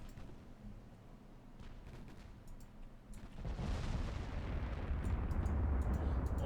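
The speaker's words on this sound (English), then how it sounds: "If you can, shoot at that ship there." Naval gunfire in the warship game Ultimate Admiral Dreadnoughts: a steady rumbling din of distant heavy guns swells into a louder, denser barrage of booms about halfway through, with no voices over it.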